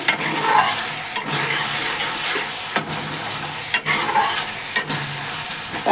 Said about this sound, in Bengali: আমার এখানে পটলের ঝোলের মশলা কষা হচ্ছে